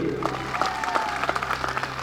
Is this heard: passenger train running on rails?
no